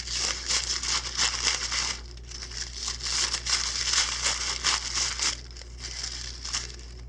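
Tissue paper crinkles and rustles continuously while being layered onto a pipe cleaner for a flower centerpiece. The crackling comes in dense bursts up close, with a steady low hum running underneath.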